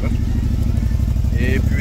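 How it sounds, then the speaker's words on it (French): A motorcycle passes close by on a Miami street, its loud, throbbing engine rumbling throughout, with voices nearby. "Une belle moto en avant."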